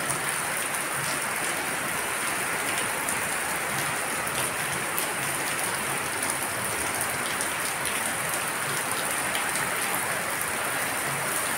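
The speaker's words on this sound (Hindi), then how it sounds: "तेज बारिश हो रही है।" Heavy monsoon-season rain pours down in the early morning, a dense, steady hiss that stays even throughout with no voices.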